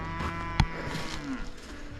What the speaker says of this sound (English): First, we got some cattle across the way.